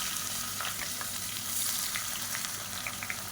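Sliced large onions fry in hot oil with biryani spices, giving a steady broadband sizzle with scattered crackles and pops, close and continuous with no talk.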